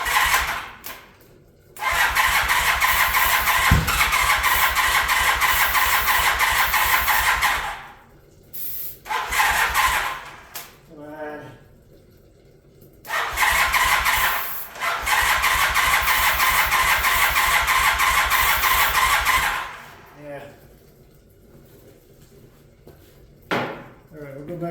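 A Honda CB450 Nighthawk motorcycle engine cranks over and sputters in two long loud bursts, chugging roughly without catching, separated by short pauses and quieter handling noises.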